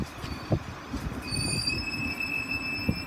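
Class 700 train at Gatwick Airport station: a low, rough rumble with high, steady squealing tones that begin partway through and a couple of brief clanks, fairly close.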